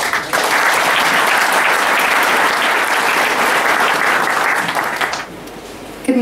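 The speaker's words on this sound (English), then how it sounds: "a huge round of applause, please, for Juliet Houglund" A conference audience gives a sustained round of applause to welcome a speaker to the stage, a dense, loud wash of many hands clapping that holds steady for about five seconds before cutting off.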